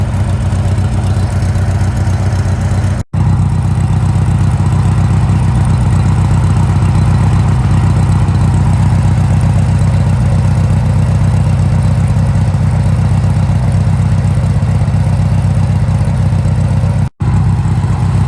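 A riding mower's small engine idles steadily and continuously while warming up after a spring start, a low rumbling drone with no voices, interrupted by two very brief dropouts.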